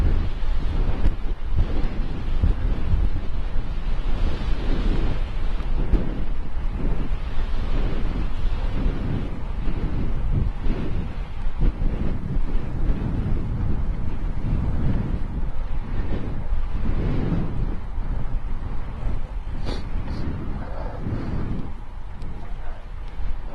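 Steady wind buffets the microphone during a bike ride along the Erie Canal in upstate New York, a continuous low rumbling roar with gusty swells, no voices.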